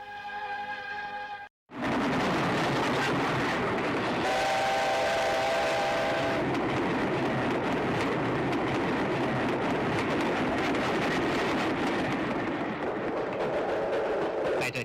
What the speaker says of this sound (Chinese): 多少次列车在通往北京的路上奔驰